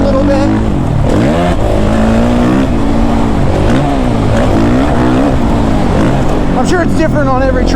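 Suzuki RMZ 450 dirt bike engine held in third gear while riding, loud and continuous with rising and falling revs as the clutch is feathered, a rider talking over it.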